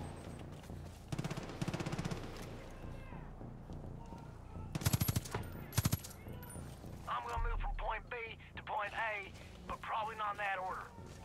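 Gunfire from the video game Far Cry comes in short sharp bursts of shots, with quieter crackling fire in between, under and alongside a voice talking.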